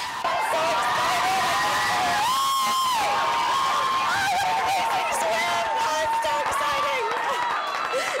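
A large crowd at a swimming race roars and cheers continuously throughout, loud and dense, with whoops and a few claps mixed in and an announcer's voice riding over the noise.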